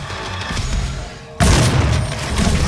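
Super shotgun blast in the 2016 Doom video game: a sudden loud, close boom that cuts in abruptly and leaves a dense roaring tail of game noise, with no talk over it.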